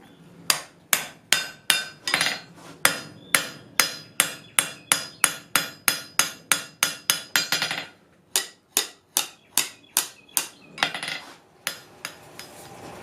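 A blacksmith hammers hot steel on an anvil while forging offsets and bosses, striking a long run of sharp, ringing, evenly paced blows close up, then a short pause and another steady series of hits, no voices.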